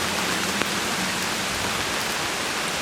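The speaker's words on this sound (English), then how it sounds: "And raindrops." Steady rain falls outdoors during an open-air church gathering, a dense, even hiss of drops that continues unbroken with no talk.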